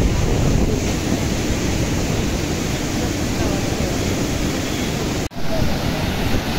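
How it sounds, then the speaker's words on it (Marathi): Sea waves wash onto the shore at a Konkan beach, a constant loud roar of surf mixed with heavy wind buffeting the microphone, with one brief dropout near the end. "पहा कसं उत्तुंग असा समुद्र."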